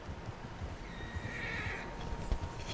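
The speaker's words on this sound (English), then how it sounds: "Horses, quite a few of them." Several horses neigh and whinny in Red Dead Redemption 2, a long shrill whinny rising in the middle, with hooves clopping and snorting underneath on a quiet outdoor trail.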